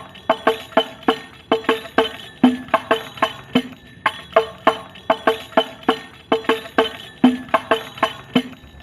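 Banjari hadrah frame drums play a steady interlocking pattern of sharp slaps and deeper open strokes, loud and close with a driving repeating rhythm and no voices.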